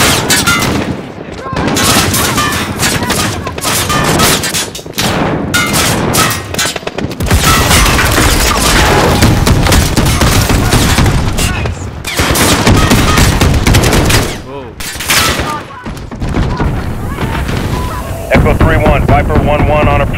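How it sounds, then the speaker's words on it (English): Heavy gunfire in Call of Duty Modern Warfare during a firefight on an airfield tarmac, with loud, near-continuous automatic bursts and shots filling the whole stretch, briefly easing before resuming, with shouted voices mixed in. "Taking fire from troops on the tarmac."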